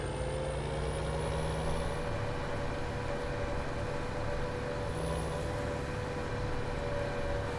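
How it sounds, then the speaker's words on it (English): Wheel loader in Farming Simulator 17, a steady, moderately loud diesel engine drone with a low rumble and a faint high whine running constantly, no talk over it. "as soon as I find my wheel loader, there it is"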